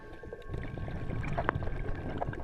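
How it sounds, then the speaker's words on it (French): Recorded humpback whale song from Madagascar waters: a low, steady underwater rumble carrying a few faint moaning tones, with one brief, clearer rising call near the middle, heard alone without voices. "Pour comprendre le rôle du chant, il faut déjà identifier et localiser les baleines qu'on enregistre."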